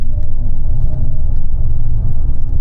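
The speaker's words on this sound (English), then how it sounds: "BMW, I know those make kind of weird noises because the sounds have been composed by Hans Zimmer" Low, dense electric drone and rumble from a BMW i7 electric car's composed drive sound, continuous and fairly loud with a steady hum, no talking over it.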